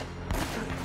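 Gunfire in the video game Uncharted: Drake's Fortune, a quick burst of shots over a dense, rumbling game soundtrack.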